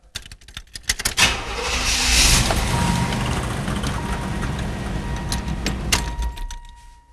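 A 1993 Buick Roadmaster engine being started: a few clicks and key jingles, then the starter cranks and the motor catches into a steady, loud idle with some clunks, heard up close.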